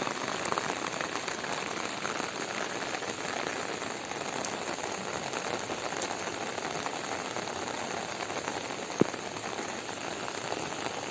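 Steady rain pouring down on surfaces outdoors near a river, a dense continuous patter of drops at an even level with one brief sharp tick, no voices.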